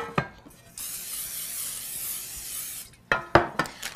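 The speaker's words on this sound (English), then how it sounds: "I have nonstick spray, and I'm just going to spray the bottom and the sides." A steady hiss of aerosol nonstick cooking spray coating cake pans runs for about two seconds, framed by clicks and knocks of pans being handled.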